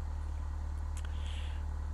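A Cessna engine idles in Flight Simulator X with a steady, low, throbbing drone and even pulsing, plus a couple of faint clicks over the hum and no speech.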